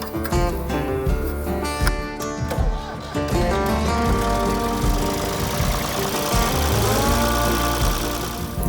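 An old tractor engine misfires on only two of its cylinders, a loud, close, uneven knocking chug with a lumpy irregular beat that keeps running throughout.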